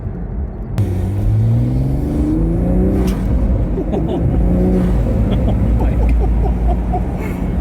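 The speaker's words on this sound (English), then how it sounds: "That's just the engine pulling air in." A Toyota GR Supra A90 engine with an aftermarket intake starts loud and rises in pitch, rumbling with a whooshing intake and whistling turbo, heard from inside the car.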